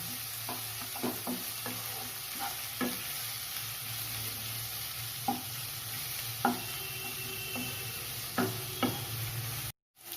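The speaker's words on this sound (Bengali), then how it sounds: "এবার পেঁয়াজগুলো একটু ভালোভাবে ভেজে নেব।" Onions fry in a pan with a steady low sizzle for a cauliflower roast, broken by repeated scraping and stirring clicks of a utensil; no voices.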